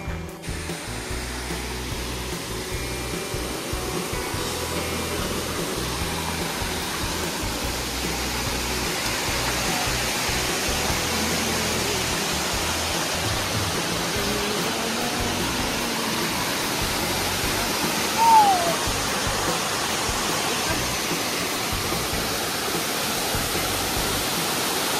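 Vyaghreshwar waterfall near Kasmal, Pen, pouring down in a steady, unbroken roar of rushing water that stays close and constant throughout, with no voices.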